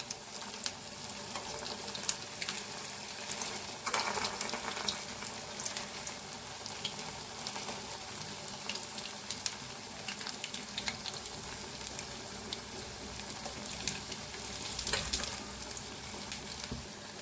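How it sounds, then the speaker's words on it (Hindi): Semolina rasgulla balls fry in oil with a soft, continuous hiss and fine bubbling crackle. The sizzle is even and moderately quiet throughout, with a few slightly louder spatters and no voices. "तो हमें इसे लाइट ब्राउन होने तक फ्राई करना है"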